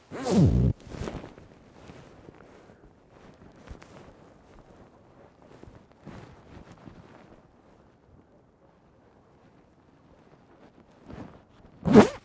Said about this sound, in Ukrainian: Я розстібнувся, повертаюсь в світ звуку.